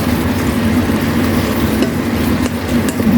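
Okra paksiw with fish sauce and oyster sauce simmers and fries in a pan, making a steady, fairly loud sizzle with a low hum underneath and a few faint clinks.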